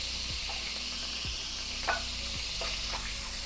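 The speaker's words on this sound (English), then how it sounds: "I love that sizzling sound." Beef and vegetables sizzle steadily in a hot pan with a constant crackling hiss, punctuated by a few soft scrapes of stirring.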